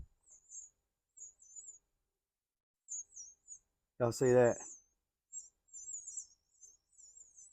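Small high-pitched bird chirps come in scattered bursts in a quiet room, briefly interrupted by a man's short spoken question.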